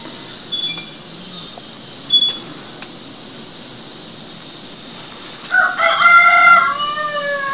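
A wild rooster crows twice on a mountain, the calls fairly distant and shrill over a steady outdoor hiss of insects or wind.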